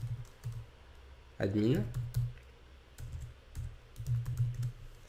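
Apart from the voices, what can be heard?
typing a command on a computer keyboard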